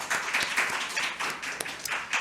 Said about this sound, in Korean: 우리 같이 박수로 함께 했으면 좋겠습니다.